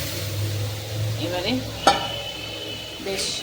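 Mung dal poured into a pan over boiled papaya, giving a sizzling, bubbling wash with a sharp splash partway through, close and fairly loud with no talk.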